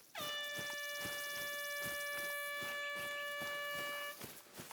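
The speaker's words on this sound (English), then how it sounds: "Yep, that's an air horn." Air horn in the hunting video game TheHunter: Call of the Wild, one sustained loud multi-tone blast lasting about four seconds, then cutting off; no talk over it.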